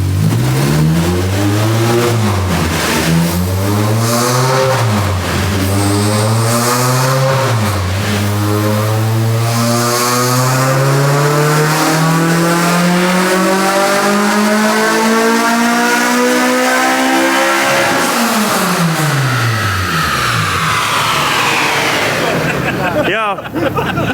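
A Honda Integra Type-R with a K24 engine revs hard on a dyno, loud and close, climbing through gears in repeated rising sweeps toward high RPM before cutting off near the end.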